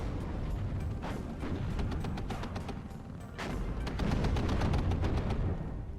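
Tanks lay down fire support in the wargame WARNO. Irregular bursts of gunfire and booming cannon shots crackle over a continuous low rumble of battle, with a brief lull near the middle.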